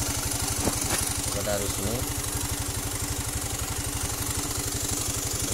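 A Honda Beat PGM-FI injection scooter that sputters on initial throttle runs with a fast, even pulsing putter close by, holding a fairly steady pitch while someone talks briefly over it.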